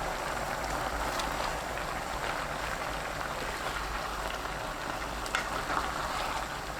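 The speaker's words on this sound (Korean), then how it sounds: "양파, 배추, 청양고추, 홍고추, 파 넣고 섞으면서 끓입니다." Cabbage chicken stew with onion, green and red chili peppers and scallion simmers in a pot, giving a steady, soft bubbling and hiss that stays even and moderately quiet throughout.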